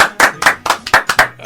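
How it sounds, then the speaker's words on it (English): Applause for a star guest at a stand-up comedy challenge: loud, close, sparse claps in a steady rhythm of about a dozen sharp hits, sounding like a small audience or a single clapper. "A big round of applause for our star guest, Chris Wood's stand-up challenge."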